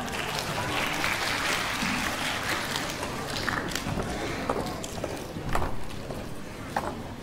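Sustained applause from the audience at a Korean-language speech contest, a steady wash of clapping with a few louder individual claps standing out near the end.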